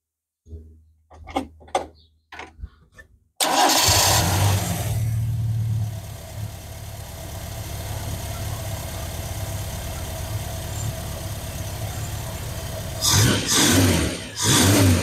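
Vauxhall Chevette engine cranks over and catches after a few clicks and knocks, then settles into a steady, moderately loud idle with a low rumble. A couple of louder surges come near the end.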